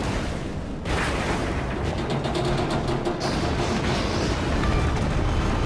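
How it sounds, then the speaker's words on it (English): Main battery guns of the Kitakami cruiser firing in a naval combat video game, a dense continuous rumble of booms and blasts with a sharp burst of salvo cracks partway through, loud throughout. "While I'm free to open up with my main battery on this Kitakami"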